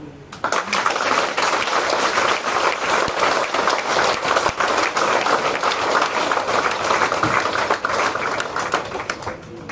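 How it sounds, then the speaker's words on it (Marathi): Audience clapping with both hands raised overhead, a dense, sustained crackle of many hands applauding together, loud and steady for several seconds before easing slightly at the end. "जिवंत माणसाने दोन्ही हात वर करून टाळ्या वाजवा"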